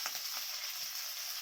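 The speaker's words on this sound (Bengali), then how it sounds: "লাল লাল করে ভাজা হয়ে গেছে" Fish roe frying in a pan, giving a steady close hiss and crackle of hot oil throughout, with a faint stir or scrape near the start and no talking.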